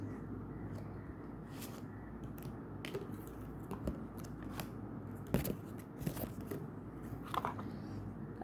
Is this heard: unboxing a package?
yes